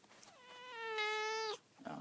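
A house cat gives one drawn-out, rising meow, clear and close in a quiet indoor room, followed by a brief soft rustle.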